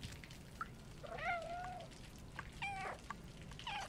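A cat in the video game Stray gives a short chirp followed by three meows, one drawn-out and two shorter, fairly faint over a quiet background hiss.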